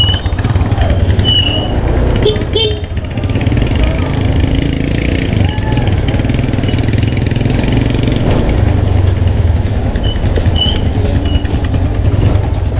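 A cheaply bought used motorcycle, still needing repairs such as new tires, idles with a steady, close mechanical rumble while people talk over it.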